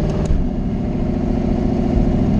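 A drag racing car's engine drones loud and close in a steady low rumble, holding a constant pitch rather than climbing sharply, with no talk.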